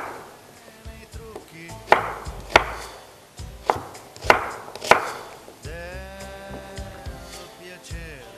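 A knife chops an onion into coarse pieces on a board: about six sharp, spaced thuds close up, followed by a quieter stretch with a low tonal hum.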